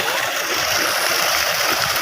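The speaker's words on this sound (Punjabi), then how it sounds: "ਪਾਣੀ ਤੁਹਾਡੇ ਸਾਹਮਣੇ ਆ ਬਹੁਤ ਹੀ ਵਧੀਆ ਪਾਣੀ ਬਣਿਆ" Water gushes from a solar-powered 7.5 hp submersible pump running on twenty-four 335-watt panels, making a loud, continuous, close rushing splash with no voices.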